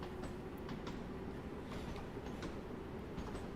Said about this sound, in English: Oh, it's not my train leaving, it's someone else's.